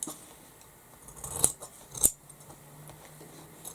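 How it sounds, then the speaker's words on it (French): Scissors cutting straight through fabric for a tote bag, two short crisp snips standing out over a quiet room background with no talk. "Donc je coupe droit."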